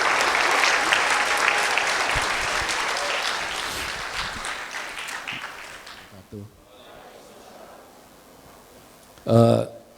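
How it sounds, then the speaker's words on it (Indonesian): An indoor audience at an anniversary event claps in dense, sustained applause that gradually thins and fades after about six seconds, followed by a brief faint voice and one short loud sound near the end. "tepuk tangan untuk Mas Didi Petet"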